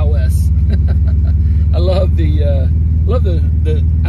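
Steady low throbbing engine drone of a red 1979 Volkswagen Beetle Convertible with tan interior pulling onto a highway, constant and loud beneath people talking.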